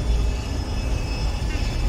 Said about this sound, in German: Das ist ein Jet.